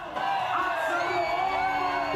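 A crowd of church supporters shouting together at a rally in Liwasang Bonifacio, a dense, sustained roar of raised voices and whoops close by, steady for the whole stretch.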